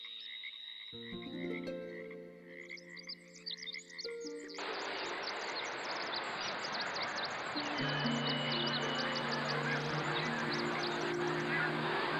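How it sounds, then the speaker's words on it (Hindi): Bar-headed geese at Okhla Bird Sanctuary, Noida, giving a steady stream of nasal honks and croaking calls, dense and overlapping, moderately near, with a chorus building and continuing throughout. "ये है बार हेडेड गूज, जिसे हिंदी में सरपट्टी सवन कहते हैं"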